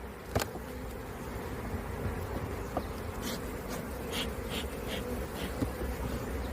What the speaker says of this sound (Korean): 우리 꿀벌들이 열심히 작업을 했어요